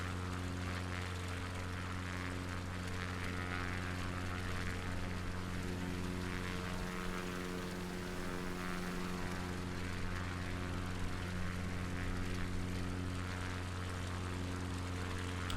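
A small propeller aircraft drones steadily as it flies toward a small airfield along the UK coast, a constant engine and propeller hum throughout with no talking.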